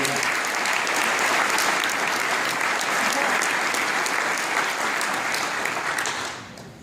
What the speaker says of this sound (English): I want to give him a round of applause for that